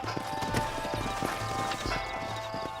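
Horses' hooves clip-clop in an uneven rhythm of close, distinct hoof strikes in the Red Dead Redemption video game, with a low engine-like hum beneath.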